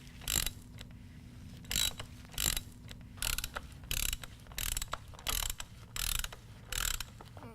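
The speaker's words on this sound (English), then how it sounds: "take your ratchet, your 5/8 inch extension, and your filter wrench and remove your filter" A ratchet with a 5/8 inch extension and a filter wrench clicks in short, evenly spaced bursts while loosening a Harley-Davidson oil filter, close and fairly quiet.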